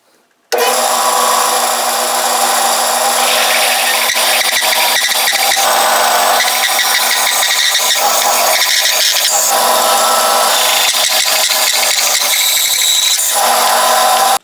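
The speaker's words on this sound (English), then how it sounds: "At my bandsaw here, I've set up my fence so that it is a 1/4 inch away from the blade to give me the thickness of the scales" A bandsaw with its fence set a quarter inch from the blade rips wood into knife scales, a loud, close, continuous cutting whine with a buzzing bite that shifts as the board feeds through, then stops.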